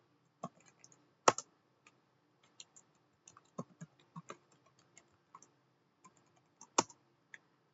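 Sparse keystrokes clack on a computer keyboard while a Linux command is entered, with irregular single clicks and a few sharper, louder taps, close and quiet with no talking.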